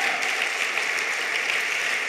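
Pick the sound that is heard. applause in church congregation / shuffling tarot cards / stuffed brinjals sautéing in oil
applause in church congregation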